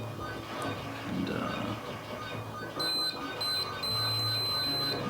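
A multimeter continuity tester chirps in short, thin beeps while traces on an Amstrad Mega PC motherboard are probed, with someone talking throughout and the tones recurring in brief bursts over his voice.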